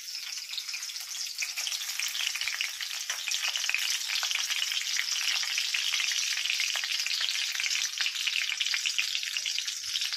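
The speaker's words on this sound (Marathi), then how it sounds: "लसूण टाकून घेणार आहोत." Garlic frying in hot oil in a home kitchen, a dense, constant crackling sizzle that holds steady and close for the whole stretch, with no voices.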